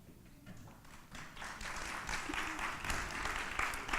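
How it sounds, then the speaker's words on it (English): Applause from attendees at a district community meeting, faint at first and building into a steady crowd clapping that grows fuller and louder over the few seconds. "And please give a round of applause."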